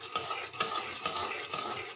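Fried flattened rice (chira) being tipped a little at a time into a pan and stirred, with repeated scraping strokes about every half second and a soft rustle, moderately loud with no talk.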